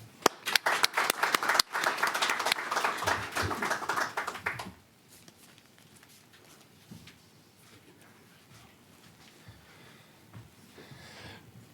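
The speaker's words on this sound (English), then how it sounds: "So a round of applause." Brief burst of audience applause at an awards ceremony, a few sharp claps then a few seconds of dense clapping that cuts off abruptly, followed by a quiet room with faint rustling.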